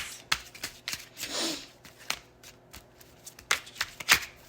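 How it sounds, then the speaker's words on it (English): Oracle cards being shuffled by hand, close and quiet: a string of crisp riffling snaps and soft papery slides in uneven bursts, with no talk over them. "And I will pull oracle cards."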